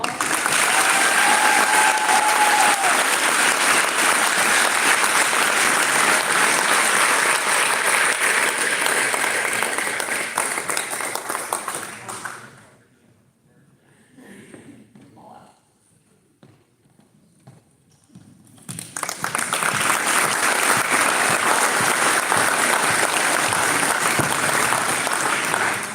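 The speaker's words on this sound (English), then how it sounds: "If we give them all a round of applause." Applause from the audience at a school honors assembly, a long dense burst of clapping that fades to near silence midway, then swells back up just as loud for a second round.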